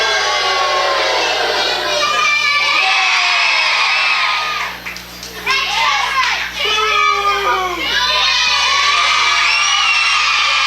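Crowd of children at a summer camp wrestling showcase cheering, whooping and shouting continuously, loud and close, with a brief lull midway before the excited voices surge back.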